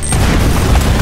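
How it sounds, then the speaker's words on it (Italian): Bomb explosions in the video game Uncharted: Drake's Fortune, a loud, dense rumbling boom filling the whole moment with heavy low-end blast noise. "Tre bombe."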